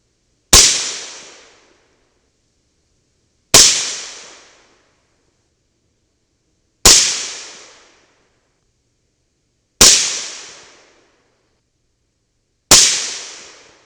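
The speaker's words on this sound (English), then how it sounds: "Let's do a quick 5-shot group." Five evenly spaced gunshots from a CMMG 300 Blackout rifle with an 8-inch barrel, fired as a group at a target. Each is a sharp, loud crack that decays over about a second, with roughly three seconds of silence between shots.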